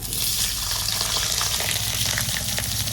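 Potatoes frying in a pan with tempering spices, a dense, continuous loud sizzle with faint scraping stirs close by.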